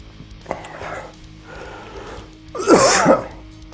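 Person coughing and sputtering after eating a Carolina Reaper pepper, a few harsh bursts with a louder explosive fit near the end, close and alone.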